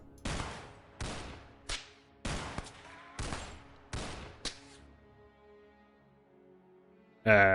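Seven loud gunshots in X-Com Files fire in a steady rhythm, each with a ringing tail, then a quiet pause before a sharp burst at the end.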